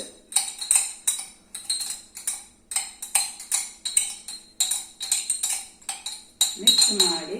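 A metal spoon clinking steadily against a container while mixing turmeric into sweet lemon pickle, a quick regular rhythm of light taps and scrapes throughout, close up, with a voice speaking at the end.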